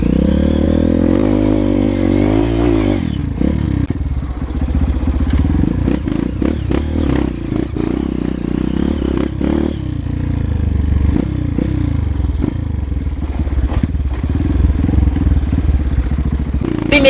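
Street and trail motorcycles riding an off-road trail, engines loud and close, revving and accelerating in first gear over rough ground with clattering and thumps, a continuous roar that rises and dips throughout.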